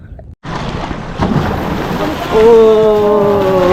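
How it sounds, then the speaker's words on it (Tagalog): Strong ocean waves while fishing, with a speedboat passing: a loud, rumbling wash of water and wind close to the microphone. A steady motor hum joins partway through and continues to the end. "Lakas ng alon."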